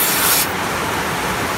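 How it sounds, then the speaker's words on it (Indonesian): Compressed air hisses steadily from a compressor spray gun aimed at a Jupiter Z motorcycle engine, a broadband rushing blast that is loud and close, with a brief harsher burst at the start and no talk. "Di sini kita semprot"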